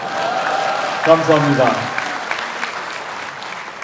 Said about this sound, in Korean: 역시 박수가 정청래 대표님보다는 작군요.